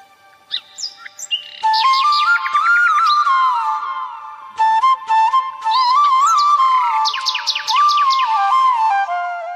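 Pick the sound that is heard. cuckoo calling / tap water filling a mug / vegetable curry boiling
cuckoo calling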